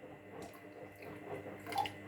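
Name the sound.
pouring a little water into yogurt dough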